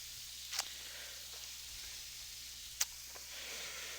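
Bacon and chicken frying in a skillet give a faint, steady sizzle and hiss, with two brief louder spits popping up over the constant low crackle and no voices.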